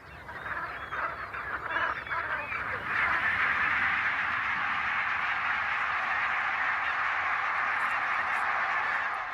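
Migratory ducks and geese call as a dense, continuous chorus on one of Germany's remote islands, building to a fuller, louder flock about three seconds in and holding steady to the end.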